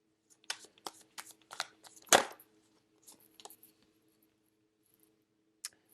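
A tarot deck is split and shuffled by hand in a quiet room: a run of quick crisp card flicks, one louder riffle in the middle, then a few soft taps after a pause.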